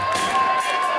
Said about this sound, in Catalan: Aplaudiments, aplaudiments per aquesta bossa.